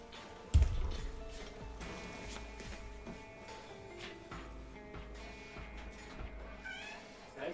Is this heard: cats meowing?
yes